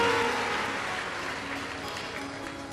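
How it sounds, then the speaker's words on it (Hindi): Applause from an audience at a live Shiv Mahapuran katha in Deoghar, welcoming a visiting minister; a fairly faint, continuous patter of many hands that holds for a few seconds and slowly thins. "एक बार जोरदार ताली बजाकर उनका स्वागत"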